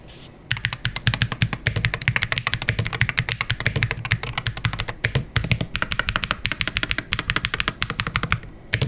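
Rapid, continuous clacking of keys on an Iqunix EZ63 mechanical gaming keyboard, close and crisp, with a steady typing rhythm after a brief quiet start.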